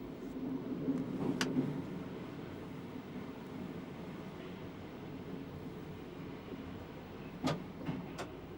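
Interior of a 1991 passenger train running toward Farringdon station, a steady low rumble of wheels and carriage with a few sharp clicks and brief squeals over the rails, no voices.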